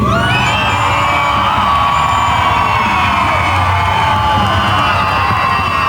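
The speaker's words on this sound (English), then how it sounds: "I want to hear you by crowd noise, by screaming." A large crowd at an all-star finals event cheers, whoops and screams continuously at full volume, young voices yelling over a dense sustained roar with no pause.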